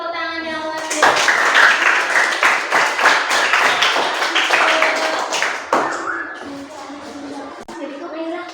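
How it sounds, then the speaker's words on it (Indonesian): A class of children in a primary school classroom breaks into a burst of clapping that lasts several seconds, mixed with chatter, then fades back to voices. "Jadi tepuk tangan yang luar biasa."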